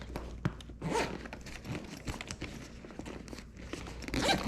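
A zipper on a dog grooming bag being pulled shut in several short rasping strokes, mixed with fabric rustling and crinkling, close and soft.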